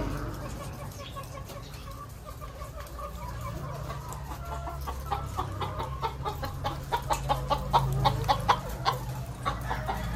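Layer hens in a poultry house at an egg farm cluck and squawk steadily, with a rooster-like crowing rising among the many birds; a low hum runs beneath and faint voices occasionally mix in.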